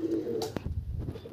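A Madras pigeon in a loft gives a soft low coo, close by, with a brief flutter of movement partway through.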